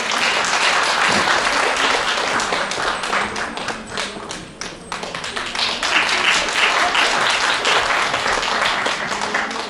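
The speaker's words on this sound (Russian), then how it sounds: "Встречаем бурными аплодисментами." At a concert celebrating Mordovian languages, an audience breaks into loud, sustained applause for a performer, thick continuous clapping that fills nearly ten seconds with a slight dip midway.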